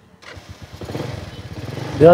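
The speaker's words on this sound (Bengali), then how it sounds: "সেলফ ধরা মাত্র গাড়ি স্টার্ট নিয়ে নিল, একদম স্মুথ সাউন্ড আছে" A second-hand motorcycle at a bike showroom is started with the electric self-starter: a short cranking whir gives way to the engine catching and rising into a smooth running note, close by, with a voice speaking under it.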